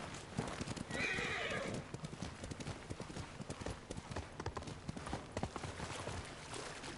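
A horse in Ghost of Tsushima gallops with steady rapid hoofbeats, and a loud neigh rises early on over the running.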